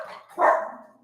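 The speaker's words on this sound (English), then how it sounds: "That's my dog saying we're done." A single dog bark rings out close and fairly loud indoors, trailing into a brief fading tail with no talk over it.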